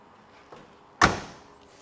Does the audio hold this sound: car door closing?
yes